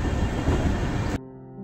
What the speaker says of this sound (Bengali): আমাদের ট্রেন দুর্গাপুর স্টেশন অতিক্রম করছে